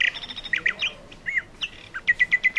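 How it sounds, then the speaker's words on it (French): A blackbird's song played from a children's sound book: a sequence of bright chirps and squawks, then a run of evenly spaced high notes, clear and close with no talking. "Ah, le petit merle."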